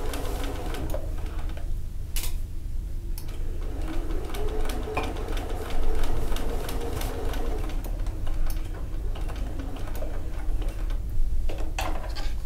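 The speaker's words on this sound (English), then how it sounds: "now I'm just going to sew down" A sewing machine stitches down fabric binding with rapid mechanical ticking and a steady motor hum, close and continuous with brief pauses and clicks.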